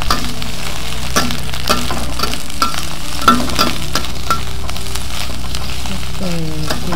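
Tempeh and chopped palm heart stir-fry in a hot pan with a pinch of shrimp paste, bringing a loud, close sizzle broken by repeated metallic spatula scrapes and stirs, with faint voices.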